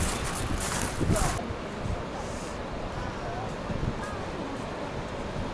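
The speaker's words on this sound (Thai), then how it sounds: "ตอนนี้ลมค่อนข้างแรง" Strong, cold wind at a temple in Japan rushes and buffets the microphone in uneven gusts, with a louder blast early on, while a voice is faintly present.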